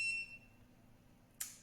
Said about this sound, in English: There's another beep. That's my, the robot, the little bot vacuum cleaner.